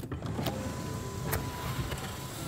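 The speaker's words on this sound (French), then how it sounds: "Tu ouvres rien, le toit ouvrant." A car's sunroof sliding open, a continuous electric motor whir running close and steady for a couple of seconds with a few faint clicks, no talk.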